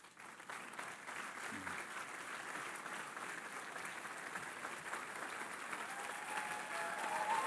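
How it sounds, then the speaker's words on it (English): Audience applause fills a room at a polo Hall of Fame induction ceremony, steady and somewhat distant, slowly swelling louder toward the end. "could we give them a round of applause?"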